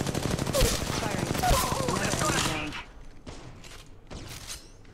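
Automatic gunfire in the Apex Legends Mobile game, a dense sustained burst of rapid shots up close for nearly three seconds, followed by a few shorter bursts with game voice callouts mixed in.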